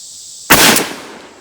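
A Mossberg 835 12 gauge shotgun fires a single 3.5-inch handloaded buckshot round of 2 5/8 ounces, a sharp close blast that rings out briefly and decays, alone without talk.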